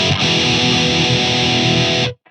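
Heavily distorted electric guitar tone shaped in BIAS FX 2 amp-modeling software: a loud, dense, sustained chord ringing for about two seconds before stopping abruptly.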